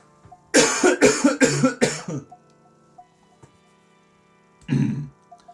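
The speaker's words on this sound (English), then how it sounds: "Oh my god, I'm going to cough again." A burst of four or five harsh coughs in quick succession, close and loud, then quiet with one more short throaty cough a few seconds later.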